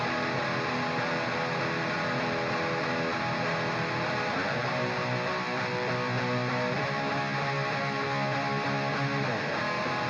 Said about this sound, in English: Down here, we have the heavier rhythm tone, which is my 6505.